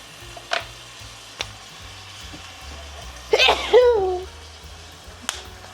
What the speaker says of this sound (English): I feel a sneeze coming on again.